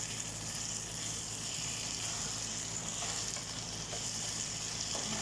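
Carrots sizzle in a frying pan with pink salt, a steady, even hiss of frying running throughout at close range with no talk.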